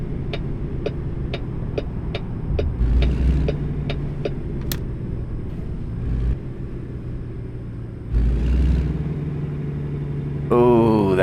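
A vehicle engine idles and rumbles steadily while a trailer is backed into a parking spot, with a regular ticking in the first few seconds and brief swells of louder engine noise near the end.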